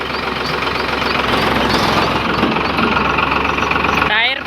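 A tractor engine idles loudly and close by in a village, a steady rumbling chug throughout that cuts off near the end.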